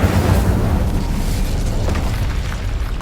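An Incendio fire spell in Hogwarts Legacy unleashes a loud, continuous roaring blast that rumbles heavily and evenly for its whole length.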